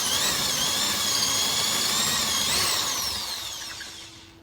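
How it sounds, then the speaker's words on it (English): A power drill bores holes for a window blind bracket, a loud close whine with a slight pitch dip partway through, then winding down and fading at the end. "Now he's about to drill holes into his measurement for him to be able to put in the bracket."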